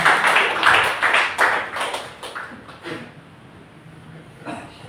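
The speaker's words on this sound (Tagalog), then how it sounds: "Saka muna po malakas sa palakpak sa Panginoon." Church congregation at a Sunday service claps loudly together, a dense burst of applause that peaks early, then thins and fades toward the end, with a little background voice.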